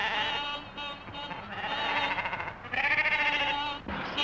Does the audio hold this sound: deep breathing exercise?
no